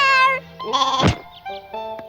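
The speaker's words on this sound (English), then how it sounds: "Dave, one of my sheep fell over." Sheep in an animated cartoon bleating in several separate cries, some wavering and tonal, one harsh and loud in the middle, close and clear with short gaps between calls.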